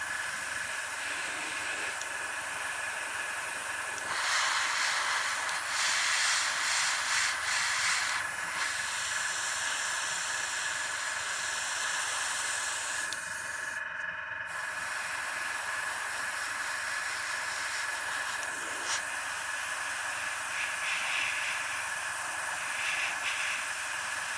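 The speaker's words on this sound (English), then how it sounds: "better keep your airbrush moving so it doesn't pool in the same spot" An airbrush sprays paint onto a collectors bust with a steady, soft hiss that runs continuously, swelling slightly in places with brief changes as the brush moves between passes.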